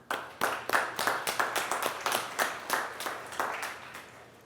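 A school audience at a Terrific Kids honors event claps in a sparse, rhythmic run of separate claps, moderately near, roughly evenly spaced and tapering off after about four seconds.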